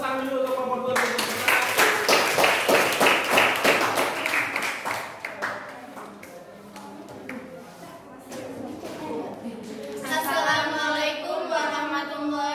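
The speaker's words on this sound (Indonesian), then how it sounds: "Tepuk tangan dulu untuk kelompok 2." Classroom audience applauding a student group, a few seconds of steady, fairly close clapping that tapers off, followed by voices talking over a quieter room.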